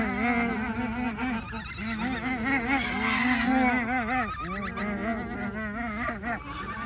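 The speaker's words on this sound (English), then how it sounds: "And these are the geese." A flock of geese honks and gabbles continuously at close range in the Naples bird gardens, overlapping nasal calls that rise and fall, with no talk.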